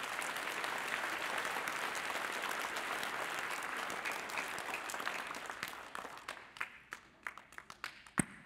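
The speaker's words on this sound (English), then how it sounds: "Can we give them a round of applause?" Audience applause at a children's Christmas program, dense sustained clapping that thins out near the end into a few scattered individual claps, with no talk over it.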